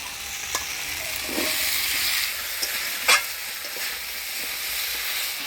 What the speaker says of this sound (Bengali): মশলার সাথে আলু সজনা ডাকা দিয়ে ভালো করে নাড়াচাড়া করে নিলাম